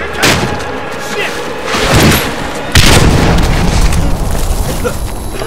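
A grenade detonates in Medal of Honor Warfighter, a loud booming blast followed by a heavier second burst with lingering rumble, amid game noise and people talking.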